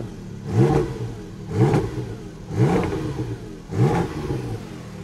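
A Porsche Cayman GT4 RS fitted with the Manthey Racing kit is revved in four sharp, evenly spaced blips, each rising quickly and falling back to a rough idle, loud and close.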